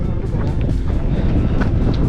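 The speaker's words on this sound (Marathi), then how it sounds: "एवढी थंडी लागते एवढा वारा सुद्धा आहे प्रचंड वारा आहे" Strong wind on Kalsubai Peak in Maharashtra roars steadily and loudly against the microphone, a continuous low buffeting rumble with no breaks.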